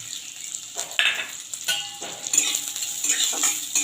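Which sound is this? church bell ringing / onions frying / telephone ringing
onions frying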